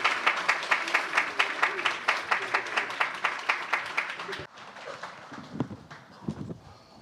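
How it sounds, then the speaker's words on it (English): Rhythmic unison clapping from an audience at a washoku cooking presentation, with sharp evenly spaced claps for about four seconds, then scattered thuds and quieter sounds as the clapping stops. "A warm round of applause, please, ladies and gentlemen"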